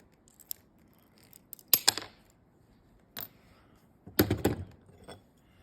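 Glass pieces are cut and nibbled with a hand tool, giving a few sharp, close crunching snaps in separate bursts against near silence, with faint clicks in between.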